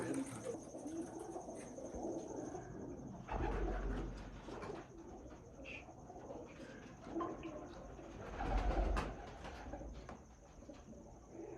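Big-headed pigeons coo repeatedly against a steady background hum and rustle, with a few louder bumps, the cooing fairly near but partly masked.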